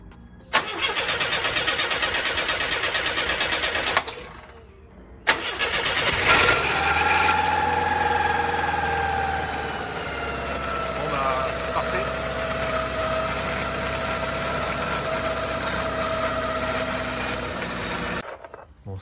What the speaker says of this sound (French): Allez, un essai de démarrage.